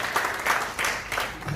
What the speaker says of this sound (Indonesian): Tepuk tangan bagi Roh Kudus.